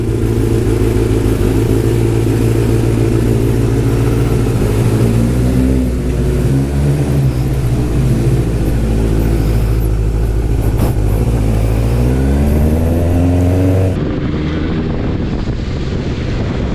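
Motorcycle engine idling and warming up before a group ride with superbikes such as a Benelli 600 GT, a loud, steady, close rumble with shifting revs and wind buffeting on the microphone, cutting off abruptly near the end.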